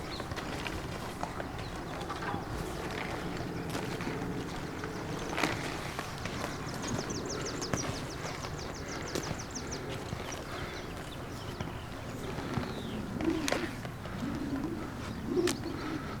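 A colt moves loose around a pen, soft hoof thuds sounding now and then at a distance, with birds and cooing pigeons nearby and no voices.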